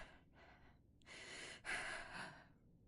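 Patient breathing in the game Quarantine Zone: a few close, quiet breaths, two short inhales followed by a longer, heavier breath and exhale, with no other sound.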